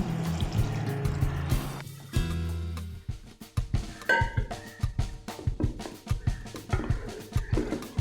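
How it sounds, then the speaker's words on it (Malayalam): Cow's milk poured into macaroni payasam in a pan, a soft liquid pour at first that gives way to irregular knocks and clinks from the pan and spoon, all close and moderately quiet. "ഇനിയിപ്പോൾ ഇതിലേക്ക് ഞാൻ ഒഴിച്ചു കൊടുക്കുന്നത് പിന്നെ തേങ്ങാപ്പാലിന് പകരം പശുവും പാലാണ്"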